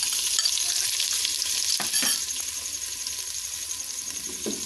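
Ginger garlic paste fries in a pan with a dense, steady sizzle, punctuated by a couple of stirring scrapes near the middle; no one speaks.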